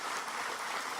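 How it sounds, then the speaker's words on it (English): A rally crowd in Tampa, Florida applauds and cheers in a big round of applause, a dense, loud, continuous wash of many hands filling the short moment with no talk over it. "how about a big round of applause for Charlotte Pipe and Foundry"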